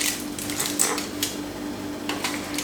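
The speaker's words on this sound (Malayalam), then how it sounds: "എന്നിട്ട് നമുക്കൊന്ന് അടപ്പുകൊണ്ട് അടച്ചിട്ട്" Lid set onto a pot of curd pudding on a stovetop before steaming, a few light metallic clinks and taps of metal cookware over a low steady hum.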